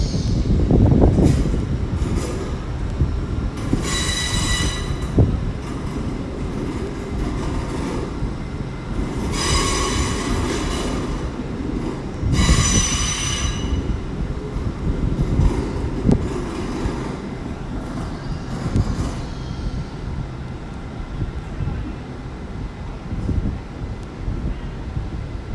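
A light locomotive rumbles into London Paddington station with a loud, sustained rolling roar, repeated squeals from the wheels on the rails and some wind buffeting.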